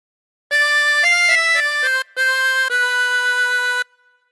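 A chromatic harmonica plays a phrase of the Star Spangled Banner, clear sustained reedy notes stepping through the melody, loud and close, with a brief breath gap midway and no talking.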